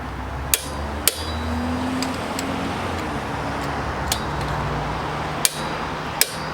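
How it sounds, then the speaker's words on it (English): Sharp metallic clicks from a torque wrench set to 47 foot-pounds tightening a side engine mount bolt on an Acura TL, about six spaced snaps over a steady background hum. "the last thing you want to do is torque these bolts up"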